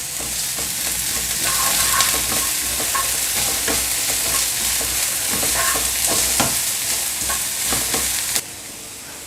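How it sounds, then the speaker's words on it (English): Onions with ginger garlic paste sauté in oil in a pan, a loud dense sizzle with regular scraping strokes of a spatula stirring, close and continuous until it drops off near the end. "Now add onions. Let's saute it."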